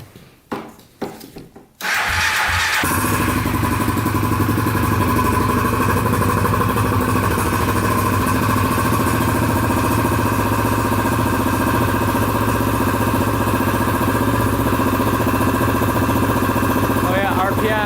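A Polaris Outlaw 500 quad turns over with a couple of short cranking bursts, then catches and settles into a loud, steady close-up idle that runs unbroken to the end.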